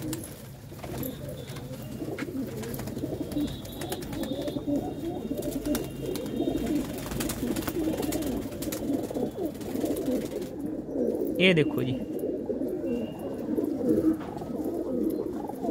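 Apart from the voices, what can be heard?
golden red-eyed pigeon cooing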